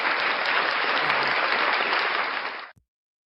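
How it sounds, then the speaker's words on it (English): A round of applause greets a news network guest, dense and steady for under three seconds before cutting off abruptly into silence. "round of applause for Frauditor News Network"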